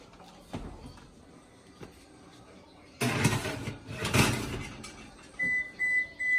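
A home oven door clunks open and a dish slides onto the rack with metallic scraping and rattling, followed by the door shutting; faint beeps and low household noise sit around it.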